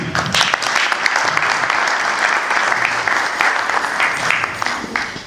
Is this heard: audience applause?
yes